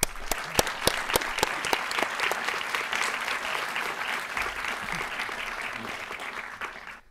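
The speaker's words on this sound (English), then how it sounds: "let's give him a warm round of applause" An audience at a coding bootcamp demo day gives a warm round of applause, with crisp individual claps standing out at first, then a full, even patter that fades near the end.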